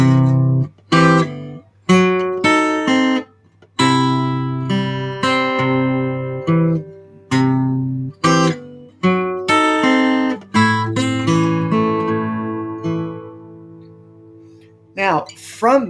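A solo guitar plays the opening line of a blues lesson piece, with bass notes under the melody. The plucked notes ring out one after another in a steady rhythm with short pauses, close and clear, and a brief rustle at the end.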